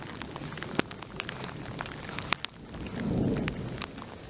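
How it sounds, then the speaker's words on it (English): Thunder rumbles low in the middle of a mountain hiking trail storm, with steady rain and scattered sharp hail ticks spattering around, no talking. "Lots of thunder, hailing, raining."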